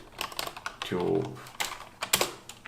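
A search is typed on a computer keyboard, a quick run of close clicky keystrokes in uneven bursts, with a voice speaking over part of it.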